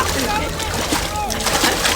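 Film comedy scene of a man who cannot swim falling into water: continuous splashing and sloshing close by, with agitated voices shouting over it.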